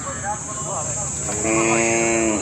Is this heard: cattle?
yes